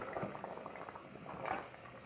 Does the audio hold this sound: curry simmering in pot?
yes